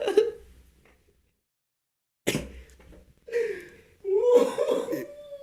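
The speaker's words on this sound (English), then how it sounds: "I got a cough." A few throaty coughs and gulping, hiccup-like sounds come in separate bursts with pauses between, close and fairly loud.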